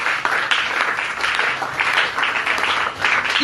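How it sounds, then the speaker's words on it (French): A church congregation applauds and claps together in a dense, continuous wash of hand claps that swells and dips, loud and near, with no talk over it. "acclame pour la gloire du Seigneur Jésus"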